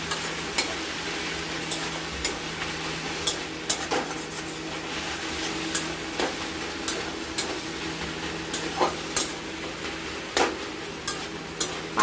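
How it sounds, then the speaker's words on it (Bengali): Jute leaves cook in an uncovered pan while a spatula stirs them, with frequent sharp metallic taps and scrapes over a low, steady sizzle. "ঢাকনা খুলে আমি এবার নাড়াচাড়া করবো।"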